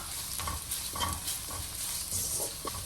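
Turmeric and chili powder are sautéed in a pan, with a soft frying sizzle beneath repeated scraping stirs that come in a loose rhythm, each stroke distinct.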